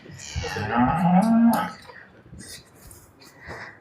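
A cow offered for sale at a farm gives one loud, close, drawn-out moo, followed by quieter rustling and a few faint background sounds.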